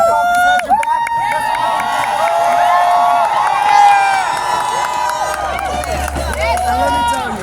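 A rally crowd outside Tweed Courthouse cheers and shouts loudly and continuously at a budget campaign launch, many voices overlapping close by with a few claps mixed in.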